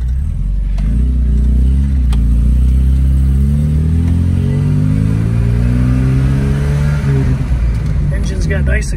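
1971 Volvo 144 S pulling away on a road, with a loud, close engine note climbing steadily in pitch under acceleration and a rougher surge toward the end.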